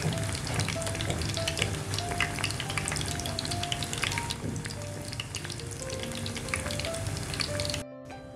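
Mutton chops coated in bread crumbs and dipped in egg white fry in oil, a steady crackling sizzle with scattered pops, close and continuous before cutting off abruptly near the end, with no talk.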